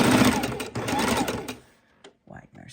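A Singer Heavy Duty sewing machine stitches raw edge appliqué, its dense rapid whir running steadily up close for about a second and a half before stopping, followed by brief bursts of speech.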